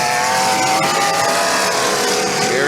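Engine of the number 100 car, a wagon, revs loud and raw at a demolition derby on a track, a sustained growl with shifting pitch and crowd and crash noise around it.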